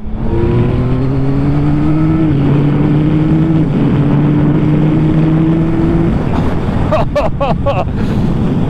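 A 2025 Yamaha XSR900GP motorcycle engine drones loudly and steadily with rising pitch as it revs up, staying under 6000 rpm, then gives way to a few sharp bursts and pops near the end.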